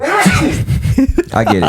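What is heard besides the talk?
sneeze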